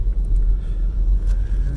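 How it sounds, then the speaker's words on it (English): Car interior on a rainy day during a drive to work, a steady low engine and road rumble filling the cabin with no voices. "Just got into my car, heading to work"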